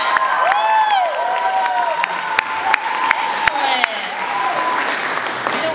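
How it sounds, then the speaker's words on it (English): A crowd at a band concert claps steadily through the whole stretch, bright and dense, with scattered whistles and a few loud single claps standing out near the microphone. "Give him another huge round of applause, because he made that"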